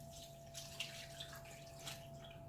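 Bragg unfiltered apple cider vinegar is poured over pork for a slow-cooker pulled pork recipe, a faint liquid trickle with a few soft splashes over a low steady hum.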